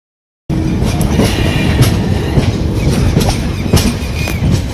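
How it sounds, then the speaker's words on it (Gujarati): A passenger train arriving at Rajula rumbles loudly and steadily close by, with rhythmic clattering of wheels on the rails and faint metallic squeals. "અમારી ટ્રેન આવી ગઈ છે"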